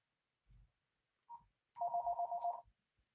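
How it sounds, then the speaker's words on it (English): A telephone rings: a brief chirp, then a sustained warbling electronic ring lasting under a second, near and clear over silence, with faint soft thumps before it. "as soon as the phone stops ringing"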